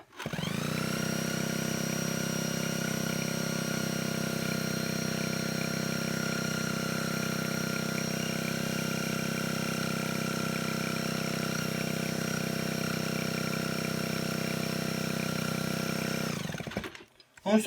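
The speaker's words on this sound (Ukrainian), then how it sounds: "Так що зараз спробуємо для чистоти експерименту ще раз дрелічкою його запустити." A drill spins and cranks the engine of a Chinese scooter that will not start, producing a loud, steady mechanical whine that runs unbroken at close range before cutting off abruptly near the end.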